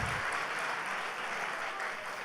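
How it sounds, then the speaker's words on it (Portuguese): A church congregation at a Sunday service bursts into sustained, dense applause, a steady wash of many hands clapping together at close range with no pause. "Quem crê e recebe essa fé eficaz, dê um aplauso ao Senhor Jesus."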